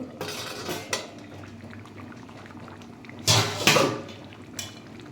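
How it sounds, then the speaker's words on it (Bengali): Bhetki fish bone curry bubbles in a pot with metal pot and utensil clatter, including two louder bursts of stirring or lid noise close by. "তাই এটা ফুটছে"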